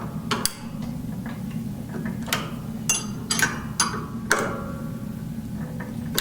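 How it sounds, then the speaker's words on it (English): A wrench turns a truck's air brake adjusting nut clockwise, giving sparse, close metallic clicks and ticks at an uneven pace against a quiet background. "I'm going to start turning the adjusting nut clockwise."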